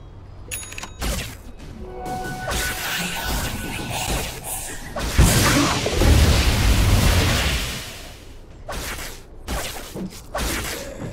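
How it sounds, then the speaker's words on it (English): A Dota 2 match with a loud burst of in-game explosions, thumps and whooshes, rising to a dense peak midway and then thinning out to scattered hits. "explosion!"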